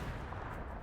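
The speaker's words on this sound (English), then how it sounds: "Oh, grenades." Grenade explosions in the World War II shooter Hell Let Loose come as a brief, dull, rumbling blast, muffled and sustained for under a second with no voice over it.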